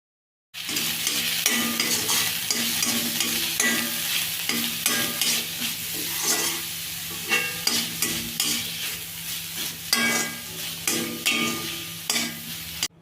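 Grated carrot and coconut being stirred into a drumstick leaf (murungai keerai) stir-fry in a hot pan: a steady sizzle with repeated scraping spoon strokes, close and continuous, no voices.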